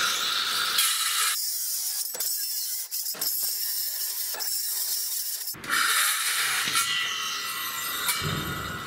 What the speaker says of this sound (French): Je vais découper ça à la scie circulaire.